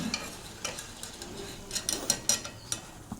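Food fries in a pan, a soft sizzle under repeated clinks and scrapes of a utensil stirring against the metal, close and intermittent.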